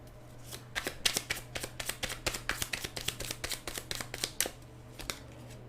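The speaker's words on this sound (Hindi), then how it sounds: "मैं 2 और कार्ड लूँगी यहाँ पर" Tarot cards are riffled and snapped in quick, fairly close bursts, a rapid irregular run of papery slaps that continues for several seconds before easing near the end.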